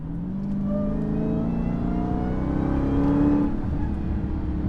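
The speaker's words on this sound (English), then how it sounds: "I love that supercharger whine." A 2021 Dodge Charger SRT Hellcat Redeye Widebody accelerates with a loud supercharger whine rising in pitch over the engine's deep roar, swelling toward the end and then leveling off.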